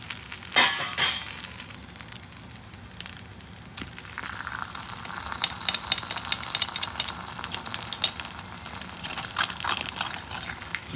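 Paneer cheese masala kuzhipaniyaram being turned over in a pan, with a steady soft sizzle of frying beneath scattered light metallic clinks and scrapes of a utensil against the pan.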